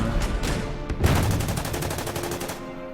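A tank fires on an Italian anti-tank gun in the Order of Battle wargame, set in the desert during Operation Crusader: a loud run of rapid gunfire bursts, with a sharp blast near the middle followed by steady repeated shots.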